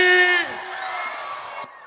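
At a live concert in Porto de Galinhas, Pernambuco, an amplified voice trails off as the audience whoops, yells and cheers in a steady roar.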